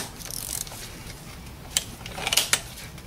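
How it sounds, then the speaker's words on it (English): A 32mm socket on a ratchet works the oil filter housing loose on a 2009 Audi A4 Avant 2.0 TDI, a few brief metallic clicks and knocks near the end, close and moderately loud with no speech. "So with a 32mm socket, you can remove that filter housing"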